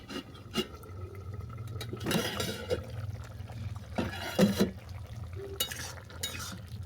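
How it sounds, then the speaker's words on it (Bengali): Water poured into a pot of pumpkin and potato pieces to set them boiling, heard as a few close splashes and clatters of a pan and utensil over steady kitchen background hum. "এবার জল দিয়ে আমি সেদ্ধ হতে দেবো।"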